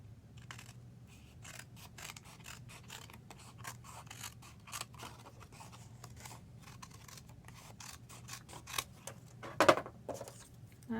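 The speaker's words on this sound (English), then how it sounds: "We're going to trim it." Scissors trim a handmade greeting card decorated with liquid glitter inks, giving a quiet series of close, crisp snips and paper rustles, ending in a slightly louder cut, with no one talking.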